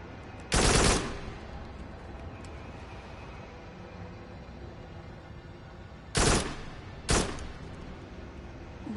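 Gunshots in the VR video game Farpoint: three loud, punchy bursts, the first alone and the last two close together, over a low, steady game background.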